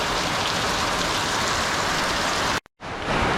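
Heavy rain from Hurricane Ian pours down in a dense, loud, continuous hiss, broken by a sudden brief cutout of total silence before the downpour resumes.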